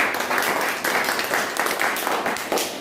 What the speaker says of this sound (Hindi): एक ताली तो होना चाहिए,